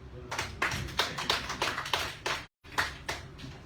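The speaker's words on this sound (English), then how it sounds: "But let us clap for President Bill." A small audience at a ministry briefing in the Youyi Building claps for President Bill, with uneven, fairly close hand claps in a loose rhythm broken by one short gap before resuming.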